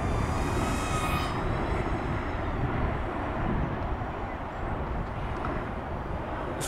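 A BETAFPV Meteor75 ELRS FPV micro drone flies downwind, its tiny motors giving a steady, loud, close whine with a broad rushing wind roar, no voices.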